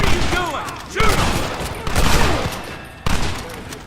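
Rapid bursts of gunfire ring out in a Red Dead Redemption shootout, with several loud, echoing volleys close by and reverberating tails between shots, mixed with faint shouting.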